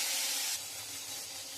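Turmeric-and-salt-rubbed rohu fish pieces drop into hot oil, a loud hissing sizzle right at the start that settles into a softer, steady spitting hiss, close up with no talk.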